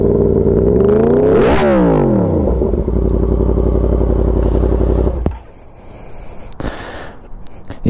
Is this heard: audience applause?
no